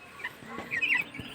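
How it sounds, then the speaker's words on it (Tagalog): Chickens cluck softly nearby in a few short, quick bursts over a quiet outdoor background. "Tapos dito naman tayo sa manok."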